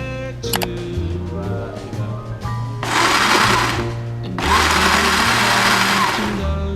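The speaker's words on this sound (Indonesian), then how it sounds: "kita haluskan anggur lautnya. Pakai blender ya." A kitchen blender purees fresh sea grapes, starting with a few short clicks and motor buzzes, then running in two loud sustained bursts of whirring blades, close up and with no talk over it.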